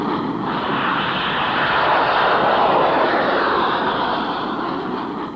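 Jet aircraft engine roaring through the takeoff roll and liftoff, a steady broadband rush that builds slightly and then eases, loud and continuous with no voices.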